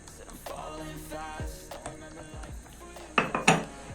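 A whisk or spoon clinks steadily against a bowl as yogurt and an egg are mixed together for a soup sauce, ending in a few louder knocks against the rim.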